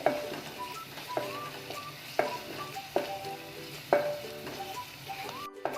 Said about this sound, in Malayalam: നമ്മുടെ സവാള നന്നായിട്ടൊന്ന് വാടി വരട്ടെ.